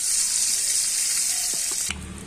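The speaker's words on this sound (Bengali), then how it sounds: "কড়াইয়ে তেল ঢেলে দেব।" Oil goes into a wok on a village clay stove over a steady sizzle, with a few soft clinks and then a change as the pour lands and the hiss shifts.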